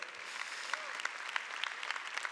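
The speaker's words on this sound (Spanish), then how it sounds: "Dale fuerte ese aplauso a Jesús" A church congregation claps steadily, a dense burst of applause at moderate distance that holds even throughout.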